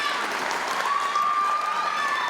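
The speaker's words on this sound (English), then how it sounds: "Give yourselves a round of applause." Applause from an audience for the Miss Universe New Zealand 2019 grand final finalists: steady, fairly loud clapping with some crowd noise, continuing evenly throughout.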